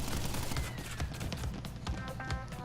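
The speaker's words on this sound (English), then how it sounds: "You wait for his Tommy gun to sort of falter" Pinstripe's Tommy gun firing in Crash Bandicoot, a dense, continuous rattle of rapid shots at a steady volume for a few seconds.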